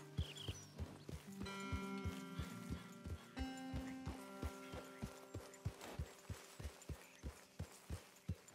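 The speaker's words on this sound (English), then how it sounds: "Big old shire horse." Heavy shire horse hooves clip-clopping in Red Dead Redemption 2, a steady rhythmic trot of close, distinct thuds that continues throughout while a background melody plays and grows quieter.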